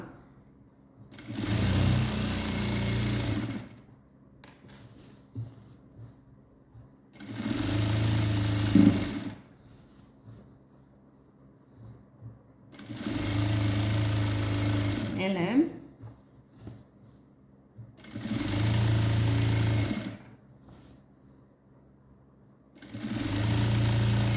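Sewing machine stitching around the hem of a pair of pants in five separate bursts of steady whirring, each a few seconds long, with quiet pauses between them.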